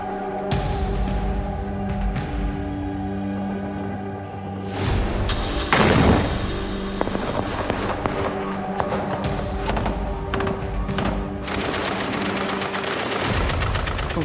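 Bursts of gunfire crackle over a sustained tone in the Gaza Strip, with a heavy boom near the middle followed by dense, rapid shots continuing to the end.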